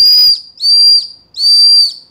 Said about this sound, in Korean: 이쪽에는 끝에 손잡이 부분은 호루라기가 되겠습니다.